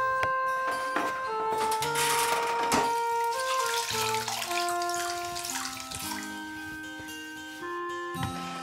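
Water running from a kitchen tap as grapes are washed, a close continuous splashing stream that shifts in tone as the flow hits the fruit and sink.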